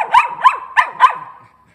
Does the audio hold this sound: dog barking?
yes